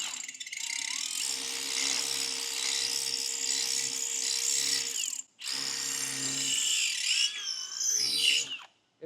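Power drill boring out an inner control arm bushing on a Honda Rancher, Foreman or Rubicon ATV, a continuous whirring grind with a sharp pause midway, then drilling resumes close by.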